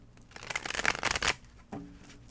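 A deck of tarot cards being shuffled, a dense riffling flutter that swells for about a second, then a quieter shuffle and a soft tap near the end.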